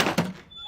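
A door swings shut with a single dull thunk, close by and brief, with a short scrape just before it in an action film scene.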